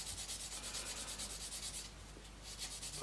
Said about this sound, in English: I'll just take the sprue gates off with a very fine thin sand and sponge even